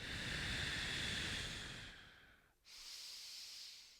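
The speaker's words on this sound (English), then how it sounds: "Big inhales through the nose. Big exhales through the mouth." Deep, slow breaths drawn in through the nose during a resistance-band reformer workout: a long airy inhale fading away, a brief pause, then another breath starting up, close and steady with no talking.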